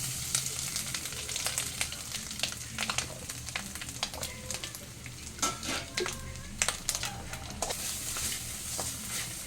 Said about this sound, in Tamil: இந்த தேங்காயை சேர்த்து வறுக்கணும்.